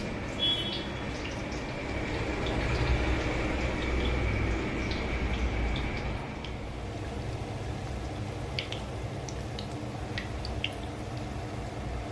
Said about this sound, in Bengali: তেলটা গরম হয়ে গেছে এবার একটা একটা করে এই ছানার বলগুলো আমি ছেড়ে দিচ্ছি